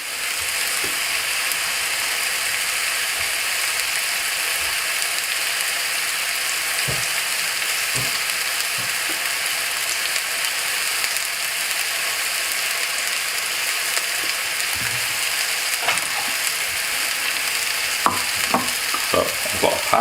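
Turkey meatballs brown in a frying pan with a steady, close sizzle throughout, broken by a few soft clicks and taps of tongs or utensil near the end.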